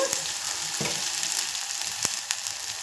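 Ginger-garlic paste with a pinch of turmeric fries in a pan for a green peas and potato curry, a steady close hiss with a few soft scraping stirs and brief pops, no voices.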